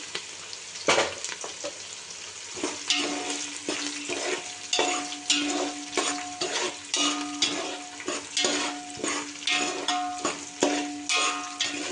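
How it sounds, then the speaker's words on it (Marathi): Peanuts, garlic, ginger, roasted chana and curry leaves being stirred and dry-roasted in a pan for bhadang, a spoon scraping repeatedly in a steady rhythm over a faint sizzle, close and alone. "हे सर्व जेव्हा आपण लाल लाल होईपर्यंत भाजूया कढीपत्ता"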